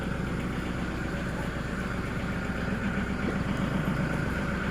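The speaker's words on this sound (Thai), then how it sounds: "กำลังขับรถไถนะคะ" Farm tractor being driven in the fields, a steady low diesel rumble that runs continuously and close without breaks.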